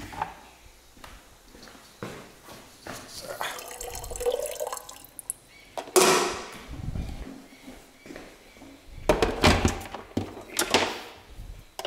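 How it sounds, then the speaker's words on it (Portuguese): Water runs and splashes into a kettle in a few bursts, with clunks and handling noises between pours and a voice speaking briefly. "Vamos botar uma água para ferver aqui na chaleira."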